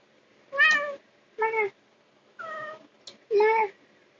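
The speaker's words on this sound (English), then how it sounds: "you hear my cat meowing at me because I keep on moving" A cat meows four times at a steady pace, each call clear and fairly close, with brief silences between them and a small click near the end.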